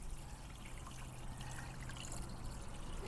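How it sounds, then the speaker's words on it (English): Water poured fast onto a small watershed floodplain model to simulate a heavy rain event, making a steady, faint trickling and splashing wash with no voices. "So we'll take the water once again, do our heavy rain event, pour it in as fast as we can."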